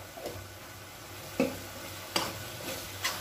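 Onions fry in a pan with a soft continuous sizzle, punctuated by several distinct scraping stirs of a spoon against the pan, close and unaccompanied by talk.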